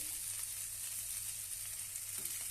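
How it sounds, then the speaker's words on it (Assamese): Onion and raw turmeric frying in a pan while cooking dried fish, a soft, steady hiss of sizzling oil with no talk over it. "আৰু ইয়াত মই পিঁয়াজ দিছো।"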